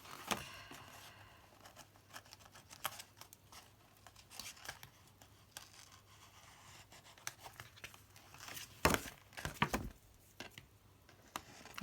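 Paper being trimmed by hand for a Lavinia Stamps gift folder, with faint snips and crinkles scattered quietly through the clip and a louder burst of cutting and rustling near the end.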